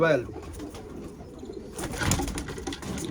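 Young racing pigeons being readied for a one-loft race coo softly nearby, with low murmuring calls and some rustling, while someone talks over them.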